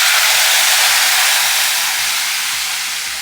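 Tamarind water pours into a hot pan of tempering with a loud, steady sizzling hiss that slowly fades, no voices present.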